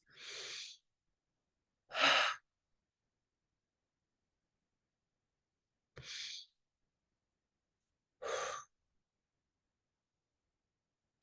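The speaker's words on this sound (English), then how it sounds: "take a few deep breaths" Four deep breaths, each a short breathy rush separated by silence, close and clear with nothing else around them.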